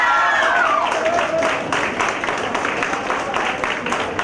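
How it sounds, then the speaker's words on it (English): Audience at an intra-collegiate challenge event breaking into a dense round of applause, many hands clapping steadily with light cheering, while a voice speaks briefly at the start. "Big round of applause, please."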